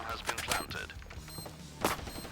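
Gunfire in the mobile shooter Standoff 2: several sharp shot bursts heard at moderate level, with a louder cluster near the start and another near the end, under faint background game sound.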